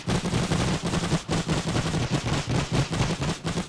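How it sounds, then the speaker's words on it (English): Rapid machine gun fire in The Great War video game, a dense continuous rattle of bursts with brief gaps, loud and sustained with no talk over it. "they're slowly walking into machine gun fire"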